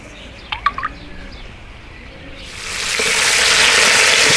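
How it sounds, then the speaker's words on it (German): Chicken pieces seasoned with salt and pepper hit a hot Dutch oven halfway through and burst into a loud, steady sizzle of searing, after a quieter start with a few brief clatters. "jetzt heißt es, unsere Hähnchenteile schön scharf anbraten."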